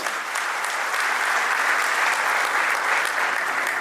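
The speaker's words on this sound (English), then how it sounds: "Give a big round of applause." Sustained, loud audience applause fills a hall at the opening of a Nashik event, a dense wash of many hands clapping steadily throughout without a break.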